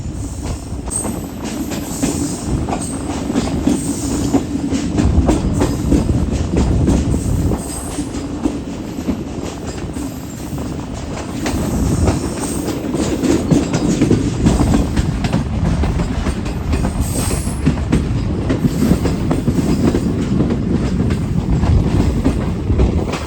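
Awam Express passenger train running on rails toward Ranipur Riyasat station, a loud continuous rumble with clattering wheels and occasional squeals, heard from inside the moving train.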